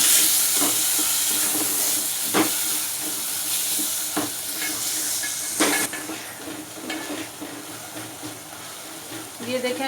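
Tomatoes and green chillies sizzle and hiss in masala in a pan, making a dish of guar beans, with sharp scrapes of stirring cutting through the steady frying close by.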